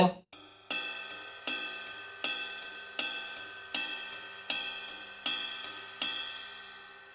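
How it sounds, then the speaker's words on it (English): A ride cymbal plays steady eighth notes, alternating between a washy body tone and a brighter, pingy bell strike, clear and alone. "the right hand is going to play 8th notes, but it's going to alternate between the main surface of the cymbal"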